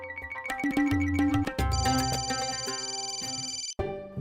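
A phone ringtone chimes in a home, a bright electronic melody of quick stepped tones followed by a long held high note, fairly loud and clear, ending with a brief cutoff.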